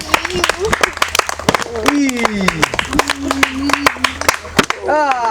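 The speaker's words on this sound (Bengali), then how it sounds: "হাততালি" Spectators clap at a children's yogurt eating contest, sharp scattered claps close by, while a voice calls out with long drawn-out shouts over the clapping.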